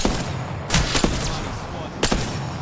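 Gunfire in a video game crackles in short bursts against continuous battle noise, with two louder clusters of shots standing out.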